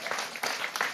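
Brief burst of audience applause in a radio studio during a talk-show debate, dense clapping lasting about a second, fairly loud and close, with no talk over it.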